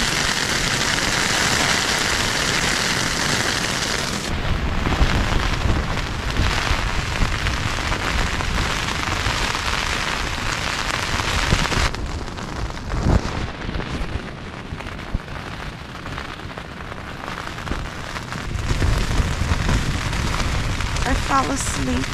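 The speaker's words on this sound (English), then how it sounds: "just in my tent at 3 p.m. with a thunderstorm" Steady rain drums on a tent during a summer afternoon thunderstorm in the Drakensberg mountains, a dense hiss throughout with deeper rumbling stretches that suggest distant thunder; no one speaks.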